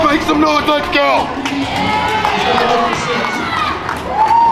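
Wrestling crowd in Richmond cheering, whooping and shouting loudly, children's voices prominent in the close, lively roar, with a commentator talking over it.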